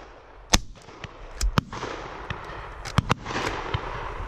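Shotguns fire at a pheasant shoot, several sharp loud cracks spaced irregularly, some near and some farther off, with outdoor rustle between the shots.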